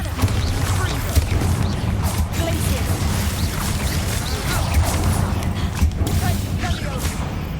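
Dense, continuous spell-blast and crash effects from the Hogwarts Legacy video game as the Bombarda blasting spell is cast at rats, loud and steady, with a voice talking over it.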